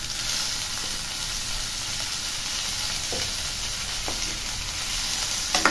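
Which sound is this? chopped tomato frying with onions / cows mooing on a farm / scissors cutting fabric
chopped tomato frying with onions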